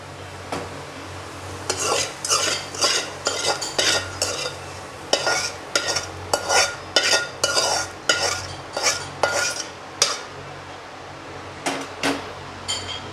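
Spoon stirring golden fried onion tempering into freshly ground coconut chutney in a bowl, a rapid series of close, sharp scraping clinks repeating steadily over a faint low hum.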